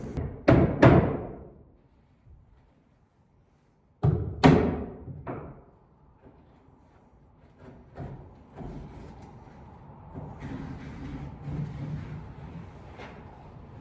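Roofers hammering on a house roof during renovation work: several sharp, loud bangs in quick succession, a pause, then another cluster of heavy thuds, followed by fainter scattered knocks over steady background noise.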